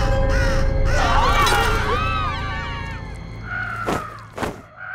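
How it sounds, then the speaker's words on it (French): Crow cawing close by, harsh drawn-out squawks overlapping one another, followed by a couple of dull thuds. "Corbeau!"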